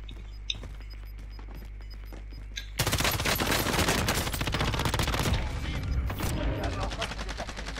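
Gunfire in Call of Duty Warzone on Rebirth Island, from an M13 rifle: a near-silent start with a couple of faint ticks, then a sudden, loud, sustained stream of rapid automatic shots and crackling impacts.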